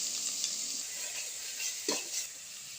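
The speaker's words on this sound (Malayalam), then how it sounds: "ഉള്ളി, പച്ചമുളക്, കറിവേപ്പില ഇതെല്ലാം കൂടി ഇട്ട് നന്നായി വഴറ്റി കൊടുക്കാം" Chopped onion, green chilli and curry leaves sautéing in coconut oil for kothu porotta, a soft, steady sizzle with a few light stirring scrapes, fairly quiet and without talk.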